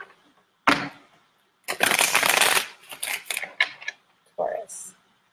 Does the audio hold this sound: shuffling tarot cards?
yes